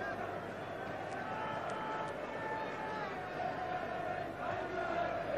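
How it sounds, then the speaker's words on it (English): Football crowd at a Nottingham Forest European Cup second-round second-leg home match against AEK Athens, a dense, steady roar of a large stadium audience with distant chanting, heard beneath continuous commentary. "And the crowd enjoying being back."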